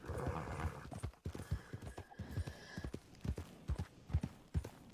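Horse hooves clip-clop in an irregular trot beneath a long whinny in a western roleplay video game, the hoofbeats close and fairly loud throughout.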